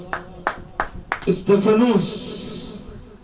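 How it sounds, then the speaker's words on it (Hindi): A handful of spaced hand claps from a church service congregation, a few distinct slaps before a preacher's voice takes over and carries on loudly. "अरे ताली तो बजाइए स्तिफनुस के लिए।"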